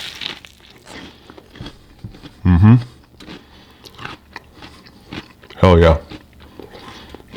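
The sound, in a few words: biting into peanut butter and pickle sandwich on toast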